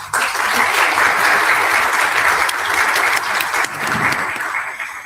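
Audience applause, loud and sustained for several seconds, a dense wash of many hands clapping together with a brief dip partway through.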